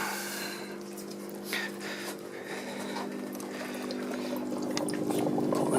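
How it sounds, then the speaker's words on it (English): A metal part is rinsed in clean water after zinc electroplating, giving a soft continuous splash and trickle over a faint steady hum, close and fairly quiet with no talk. "And then get a rinse in some clean water"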